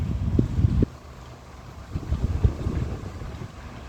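A repaired electric stand fan whirs steadily, blowing strong air into the microphone as a low, fairly quiet buffeting rumble with uneven gusts and no talk.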